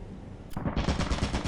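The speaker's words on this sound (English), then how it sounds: "I started off my day being greeted by a turret" Rapid automatic gunfire from a turret in the video game Lethal Company bursts in after a half-second of quieter background, a loud, close, steady stream of shots continuing to the end.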